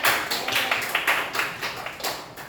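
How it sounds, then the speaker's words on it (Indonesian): Applause from a grade 10 class during an Indonesian micro-teaching lesson: dense, rapid clapping from a group of students that runs steadily and fairly loud for the whole stretch, with no talking over it. "Tepuk tangan dulu untuk semuanya."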